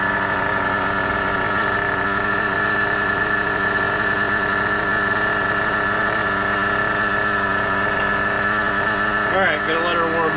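A nitro rally car's engine idles as it warms up, holding a steady, buzzing drone for about ten seconds with little change in pitch, close and fairly loud, with a brief rise in tone near the end.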